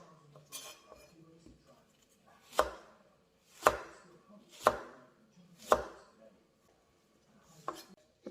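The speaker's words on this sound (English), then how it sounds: "ឥឡូវមកហាន់ខ្ទឹមបារាំងរបស់យើង" A knife slices an onion on a cutting board, giving about five sharp, evenly spaced chops close by, with quieter handling sounds between them and no speech.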